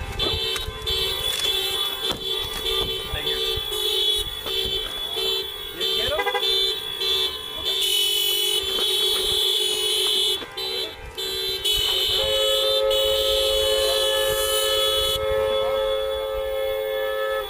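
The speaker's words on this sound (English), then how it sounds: "They love blowing their horn, don't they?" Car horns honk repeatedly at a street protest, sustained and overlapping blasts with shifting tones and alarm-like wails that keep going, while voices talk underneath.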